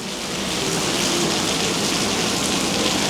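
Heavy rain hisses steadily in Florida weather around a Ferrari 360 with its top down, a loud dense unbroken wash of drops with no voices.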